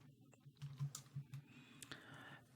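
Quick, uneven taps on a computer keyboard while entering a math expression, a few keystrokes close together, nearby and fairly quiet, with no one talking.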